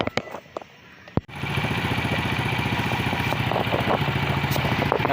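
A cleaned motorcycle engine, fixed of exhaust backfiring, catches after a brief quiet start and settles into a steady, even idle close by, with no pops breaking the rhythm.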